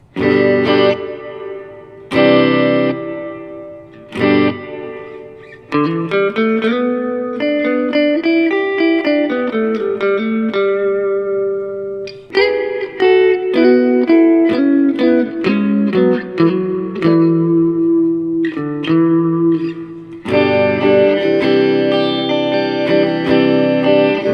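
Processed guitar notes and chords through a Biyang RV-10 Tri Reverb pedal at maximum room setting ring out into a big, washy ambience, each phrase trailing off in a long, spacious tail; loud, with no talking.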